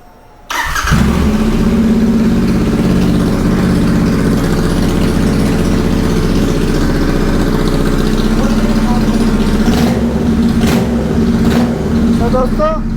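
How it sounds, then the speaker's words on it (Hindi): A Royal Enfield Continental GT 650 twin fires up on open bend-pipe exhausts with no silencers fitted, then settles into a loud, close, throbbing idle with a few sharp throttle blips near the end. "ये कुछ इसकी बैंड पाइप की आवाज़ है"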